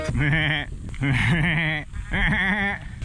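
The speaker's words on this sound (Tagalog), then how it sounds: "Ayun o, mountain goat." Mountain goat on a rough mountain road bleating three times in quick succession, each call a wavering, nasal cry, fairly close and clear with short gaps between calls.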